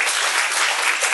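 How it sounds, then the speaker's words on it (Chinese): Sustained applause from a lecture audience at a course summary session, dense and steady clapping filling the whole moment without pause. "都给点掌声给他们"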